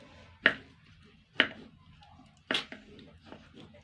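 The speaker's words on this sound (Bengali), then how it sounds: "আমি ছুরি দিয়ে কাটছি, যদি বটি থাকে বটি দিয়ে কাটবে।" Fish from a pond being cut with a knife on a board: three sharp chopping strikes spaced about a second apart, close and clear, with quiet gaps between.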